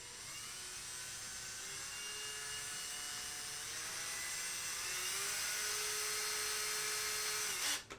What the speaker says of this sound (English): drill these holes.